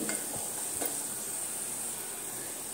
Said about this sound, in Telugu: స్టవ్ని లో ఫ్లేమ్లో పెట్టుకుని రసం పొడి వేసుకొని 1 నిమిషం అలా వేయించుకుందామండి